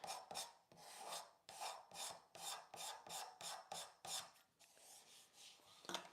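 Rasp shaping a wooden furniture leg, a quick series of about a dozen rhythmic scraping strokes, each a short gritty rasp, close and fairly quiet, with a brief pause near the end.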